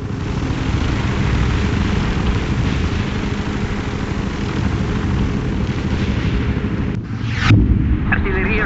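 Artillery fire support in the war strategy game World in Conflict: Soviet Assault, a heavy steady rumble of distant guns and explosions, then a sharper close blast near the end, with voices talking over the battle.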